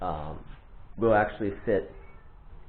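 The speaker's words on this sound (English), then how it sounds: "also you can hear the cat going crazy in the background" A cat yowls loudly and insistently in the background, a few drawn-out meows in quick succession, while someone talks nearby.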